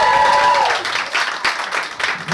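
Comedy club audience at a live showcase breaks into a brief burst of applause and crowd noise, loud at first and then thinning out, with a faint tone fading in the opening moments.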